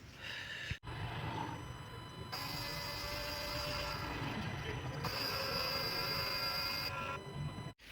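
A headlight leveling motor on an Opel Vivaro runs steadily as it pushes its rod fully out, a continuous mechanical whir whose tone shifts a few times over eight seconds, ending with a brief click.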